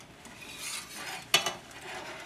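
A thick cream sauce simmers softly in a pan over a low flame with a gentle bubbling hiss, broken by a couple of sharp clinks of a utensil against the pan.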